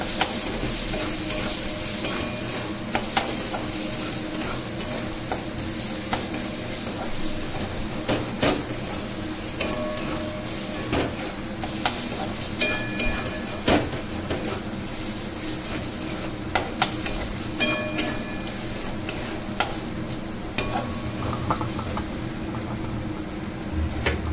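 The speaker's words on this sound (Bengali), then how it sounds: "দিয়ে এটা কষাতে থাকবেন, যতক্ষণ তেল ছেড়ে না আসে ততক্ষণ কষাতে থাকবেন" Chicken kosha stir-fried in oil, cooked down until the oil separates, with a dense continuous sizzle and frequent spatula scrapes and knocks throughout, close and loud.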